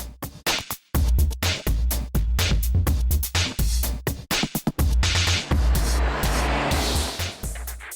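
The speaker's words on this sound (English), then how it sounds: "This is a Mazda MX-5." A Mazda MX-5 open-top roadster drives past, its engine note loud and steady with brief dips and gaps before a rushing, wind-swept stretch toward the end; no talking.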